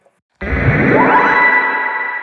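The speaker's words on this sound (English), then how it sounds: "Let's add some reverb and delay to it, like a crystalline." After a moment of silence, an otamatone's electronic, voice-like synth tone swells in with a rising pitch bend, wrapped in heavy echo and lingering reverb.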